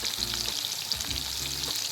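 Crispy soybeans frying in hot oil, with a dense, continuous sizzle and crackle throughout, close and even.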